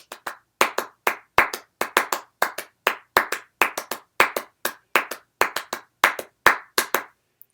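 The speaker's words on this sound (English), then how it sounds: "the whole piece is 4 people clapping this rhythm" Four people clapping a shared rhythm, sharp loud hand claps close up in a repeating syncopated pattern of paired and single hits, with no other sound between them.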